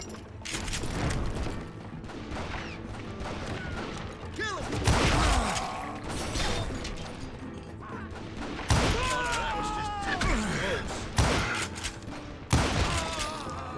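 Rapid crossfire of gunshots and ricochets in the western shooter Call of Juarez: Gunslinger, bursts of shots overlapping with clanks and crashes, loud throughout with sharp peaks, under the game's shouted dialogue.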